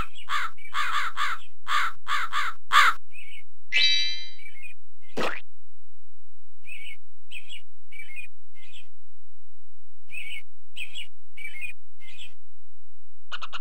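Crows caw in the My Little Pony Friendship Gardens video game (1998): a rapid run of loud caws, then a boing and a plop, followed by quieter scattered chirps and caws.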